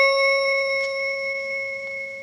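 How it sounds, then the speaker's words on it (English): A single bright page-turn chime from a 1986 My Little Pony read-along book sounds alone. The clear bell-like tone rings out and slowly fades. "Every time you hear this chime,"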